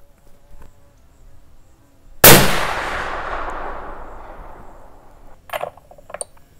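.280 Ackley rifle firing a 145gr Barnes LRX load at a shooting range: one sharp, loud shot with a long fading echo, followed by faint clicks and handling noises.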